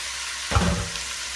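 A sudden burst of sizzling as chicken hits a hot pan, loud at first and then settling into a steady crackle with no talking.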